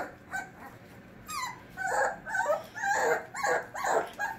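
A puppy whimpers and yips in a string of short, high, rising cries, close by and fairly quiet, with no talking over it.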